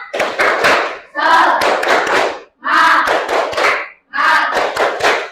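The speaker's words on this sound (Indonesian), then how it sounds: "Coba tepuk semangat." A classroom of pupils performs a rhythmic spirit clap in four loud bursts of clapping and chanting, separated by short pauses, with children's voices shouting along.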